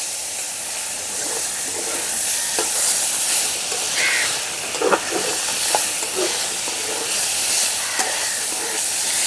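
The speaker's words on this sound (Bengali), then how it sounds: "একটু নাড়াচাড়া করে লতিটাকে একটু ভেজে নিতে হবে।" Taro stolons with turmeric sizzle and hiss steadily in hot oil while a utensil stirs them, leaving scattered clinks and scrapes against the pan throughout.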